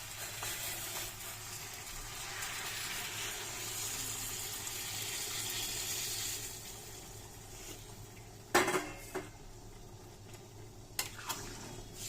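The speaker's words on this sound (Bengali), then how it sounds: "গরম জল দিয়ে দেবো।" Hot water pours into a cooking pan of Bengali bhetki fish-head chochori, a broad, steady rushing hiss lasting several seconds before it stops, followed by a few sharp clinks of utensils against the pan.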